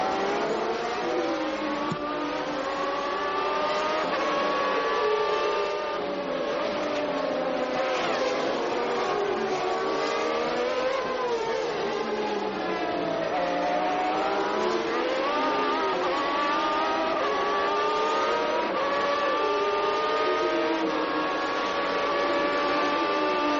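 Onboard Formula 1 race car engines at the 1990 French Grand Prix: a continuous high-revving scream that rises and falls through gear changes, loud and close, with no talking.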